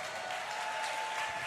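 Steady, dense applause from a crowd, loud and sustained throughout without a break.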